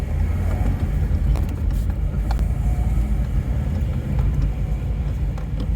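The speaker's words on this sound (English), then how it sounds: "Let's hear the suspension." A BMW E30 Touring with a swapped S54 setup and worn suspension rolls along in a steady interior drone of road and engine noise, with faint knocks and clunks from the chassis mixed in.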